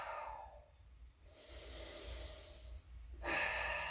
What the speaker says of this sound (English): Take another couple easy breaths.